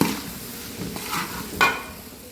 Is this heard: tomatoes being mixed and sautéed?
yes